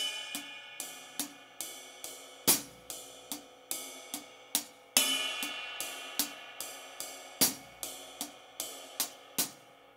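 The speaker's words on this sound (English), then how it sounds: "We're gonna play the right hand on the ride cymbal, left hand on the hi-hats" A drum groove of double paradiddles, right hand on the ride cymbal and left on the hi-hat, in a rolling sticking pattern, punctuated by louder crash-like accents every couple of seconds.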